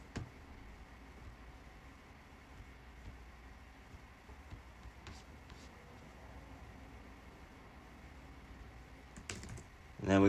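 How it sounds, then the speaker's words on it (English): Quiet typing on a computer keyboard while entering emoji characters: soft, continuous key clicks under a low background hiss, ending in a slightly louder clatter. "And then we gotta type out the word awesome."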